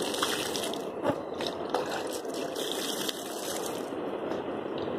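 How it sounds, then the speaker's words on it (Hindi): Water and waste decomposer culture pour steadily into a container outdoors, a continuous rushing splash with a few small clunks, fairly loud and with no talk. "ये जो मेरे पास में ये वैश्य डिकम्पोजर का कल्चर है मैं इसको डाल दूंगा और फिर इसमें और पानी डाल दूंगा"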